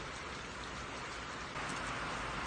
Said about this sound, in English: We're in Mississippi and it's raining.